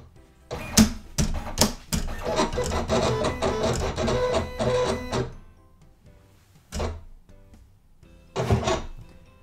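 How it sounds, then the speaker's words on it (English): A Silhouette Cameo 4 cutting machine running a test cut, giving a few seconds of dense mechanical whirring and scraping movement, then short separate motor bursts after pauses, close and fairly loud. "So I'm going to do my test cut now."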